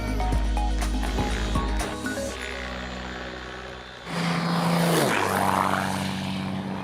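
An old Align T-Rex 550 RC helicopter flies at a 1,900 RPM head speed, its loud whining rotor and motor drone steady throughout, with a pitch sweep partway through as it manoeuvres.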